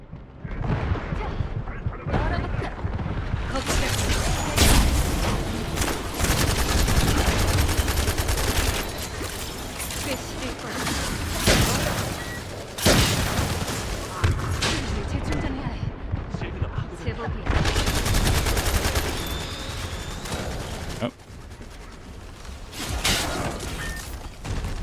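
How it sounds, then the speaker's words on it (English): Machine gun fire in The First Descendant comes in long, dense bursts of rapid shots with short gaps between them, loud and close over the full stretch, while a player talks over parts of it. "Oh, I had my fucking machine gun out."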